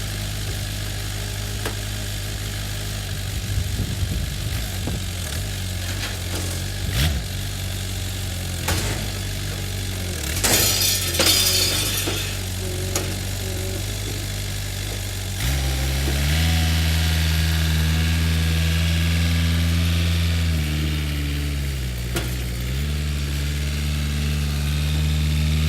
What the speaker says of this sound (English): Rick is just going to use the tractor